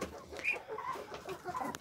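Chickens clucking in a farmyard during the autumn moulting season, a run of short, soft, uneven clucks and calls close by, moderately quiet, with no talk over them.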